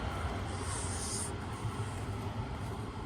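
A tram rolls along an old residential street in Moscow, a continuous rumbling wash of rail noise, fairly loud and steady throughout, with no voices.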